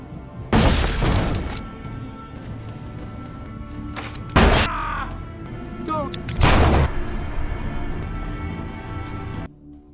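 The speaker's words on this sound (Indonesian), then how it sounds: "tiba-tiba saja Killer datang sampai terjadilah baku tembak di sana" Gunfight in an action film: three heavy, booming gunshot blasts spaced a couple of seconds apart, loud and close, with ringing and debris between them and a low voice underneath.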